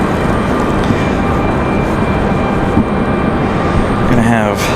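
An Embraer E175 jet spools up at Raleigh-Durham International Airport, a loud steady engine roar with a rising whine building near the end, heard from nearby outdoors.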